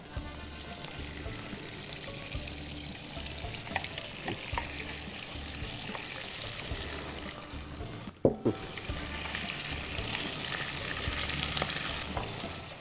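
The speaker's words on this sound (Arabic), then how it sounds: "اول شيء بدنا نقلب اللحمة" Meat frying in butter with a little added oil, stirred in the pan: a steady crackling sizzle with intermittent scraping and a brief clatter partway through, no talking.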